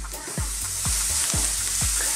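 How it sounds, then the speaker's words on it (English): Onions and spices frying in a pan, a continuous hiss of sizzling oil cut by four evenly spaced stirring strokes, close and loud with no voices. "Just fry them away for about 4 minutes."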